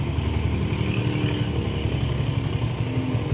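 A Yamaha Sniper 150 motorcycle engine runs steadily up close after a repair for Error 46, a continuous low, throbbing hum with no speech over it.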